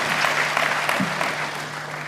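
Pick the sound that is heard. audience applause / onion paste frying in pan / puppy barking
audience applause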